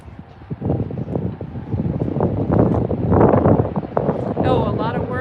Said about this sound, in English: It's just very windy today.